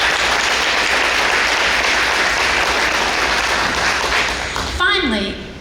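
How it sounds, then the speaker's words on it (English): Audience applause at a school district breakfast event: dense, sustained clapping from a large crowd that fills the room, fading near the end as a voice starts to speak. "Let's give her a round of applause for this."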